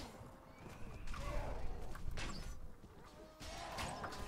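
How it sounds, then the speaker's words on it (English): A horse whinnies and neighs loudly while being killed in battle in the game Perisno, with hoof clatter and combat clashes around it. "They're killing a horse."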